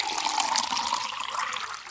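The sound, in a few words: warm soapy water poured into a large wooden basin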